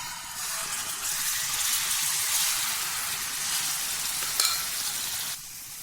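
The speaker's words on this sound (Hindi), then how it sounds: "इसको तकरीबन लो फ्लेम के ऊपर हमने 10 मिनट तक फ्राई करना है।" Chicken pieces frying in hot oil in a pan over a low flame, cooking for chicken tikka, giving a steady, fairly loud broadband sizzle that holds throughout with a brief sharp clink near the end before easing slightly.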